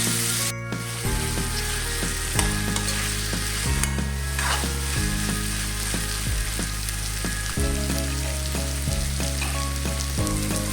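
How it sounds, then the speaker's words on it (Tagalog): Tomatoes sauté in a pan for a mackerel and coconut milk stew, giving a loud, steady sizzle throughout with a repeating low musical backing underneath. "Malambutin lang po natin yung kamatis ng konti"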